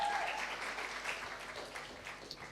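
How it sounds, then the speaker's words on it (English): Audience applause after a live spoken-word performance in Leeds, a soft, steady patter of many hands clapping at a modest distance that gradually thins out toward the end. "One more round of applause for Natalie."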